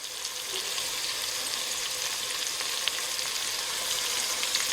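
Beef cubes for a hearty vegetable beef stew brown in a pan, a soft, even sizzle that holds steady at moderate level with no voices over it.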